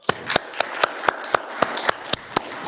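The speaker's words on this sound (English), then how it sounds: "I'll give Tommy another round of applause." A few people at a recovery foundation's spiritual service clap in a slow, steady rhythm, sharp individual claps close by over a faint background murmur.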